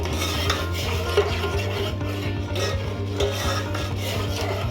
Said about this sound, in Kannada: ಸೌಟ್ ತೊಗೊಂಡು ಈ ಥರ ಮಿಕ್ಸ್ ಮಾಡ್ಕೊಳ್ಳಿ